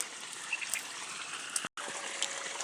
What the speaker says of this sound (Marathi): सध्या दंडामध्ये पाणी आहे पाणी द्यायला चालू आहे